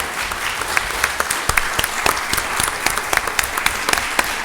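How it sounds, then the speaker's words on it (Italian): Audience clapping for an author at a book presentation at the Ateneo Veneto in Venice, a sustained round of applause with distinct individual claps standing out sharply from the dense patter. "Facciamogli un bel applauso."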